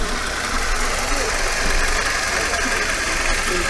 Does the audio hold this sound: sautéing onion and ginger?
no